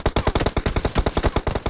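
Rapid automatic gunfire in the PUBG battle royale video game, a steady burst of about a dozen loud, close shots in quick even rhythm, with no talk over it.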